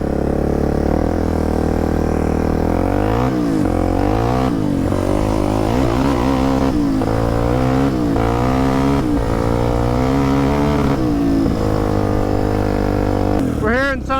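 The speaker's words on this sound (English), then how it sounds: "so they towed me home and now I'm on the quad" A quad ATV ridden on a trail, its engine droning loudly and steadily throughout with repeated throttle surges and shifts in pitch, close to the microphone.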